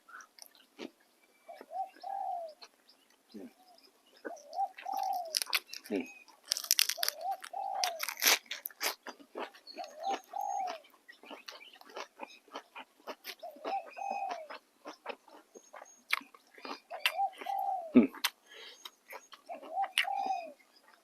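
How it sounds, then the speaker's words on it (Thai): Turtle doves or spotted doves give repeated soft cooing phrases in a steady rhythm, about every two to three seconds, at moderate distance, with crunchy biting and rustling sounds close by in a quiet Thai rural evening setting. "ฟังเสียงนกเขาคันไปนะพี่น้อง"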